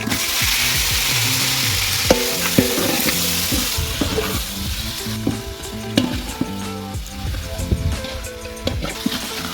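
Tomatoes sizzle in a hot frying pan as they are added and stirred into a seafood gravy, a loud, continuous crackle with spoon scrapes and clinks on top.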